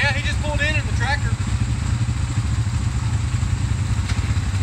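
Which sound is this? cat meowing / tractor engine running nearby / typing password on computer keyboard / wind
tractor engine running nearby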